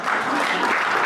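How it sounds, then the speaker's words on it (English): Short burst of audience applause at a Yavapai County Republican Women candidate forum, dense steady clapping from a crowd heard close. "This gives me some round of applause."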